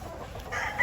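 A bulik gamecock rooster on a game farm gives brief, close clucking in a short, faint burst.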